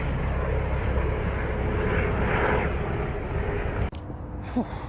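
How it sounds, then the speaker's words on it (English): A helicopter drones steadily overhead, loud and broadband, then cuts off sharply near the end, leaving quieter background noise. "Another helicopter."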